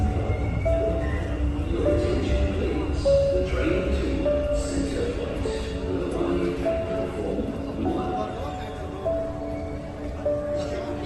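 A Dubai Metro train rumbles at Mall of the Emirates station, a steady loud rolling drone with brief metallic tones and faint squeals throughout, with voices murmuring faintly beneath.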